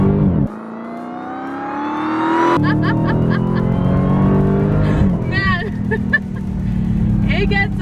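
A Dodge Challenger Hellcat Redeye accelerates hard from 40 mph, its supercharged engine roaring and rising in pitch, then a brief gear change and another loud rising pull, close and dominant throughout.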